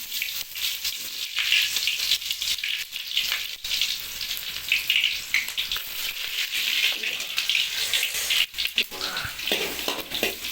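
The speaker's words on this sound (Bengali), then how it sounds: "আমাদের অয়েল গরম হয়ে গেছে এখন আমরা পেঁয়াজ অ্যাড করছি" Onions dropped into hot oil in a pan for a green banana dish crackle with a bright, dense sizzle that fluctuates in waves and stays close and prominent throughout.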